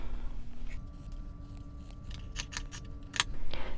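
Scissors snip through quilt fabric along a drawn center line in a quiet room, a few crisp cuts in steady rhythm, close and clear with no talk.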